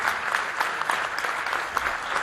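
A theatre audience at a Neapolitan sceneggiata performance breaks into steady, dense applause, many hands clapping together at close range with no voices over it.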